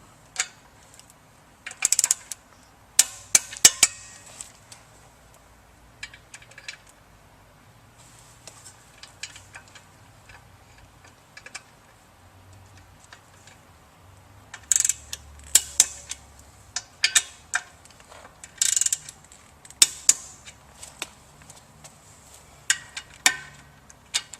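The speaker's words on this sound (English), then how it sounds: "we'll go ahead and torque down the motor bolts" Mechanical clicks and ratchet ticks from a torque wrench tightening motor bolts on a Grundfos CR pump, heard in scattered bursts of sharp close clicks with quiet gaps between them.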